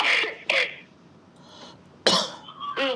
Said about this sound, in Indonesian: saya sampai batuk-batuk